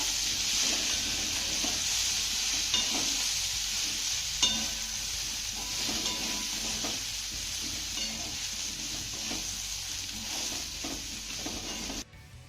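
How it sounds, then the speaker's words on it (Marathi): Cut idlis tossed in a spiced tempering in a pan, with steady close sizzling and stirring scrapes running throughout, a few louder clinks along the way, ending abruptly. "इडल्या आपल्याला फोडणीमध्ये दोन मिनटं चांगल्या परतून घ्यायच्या"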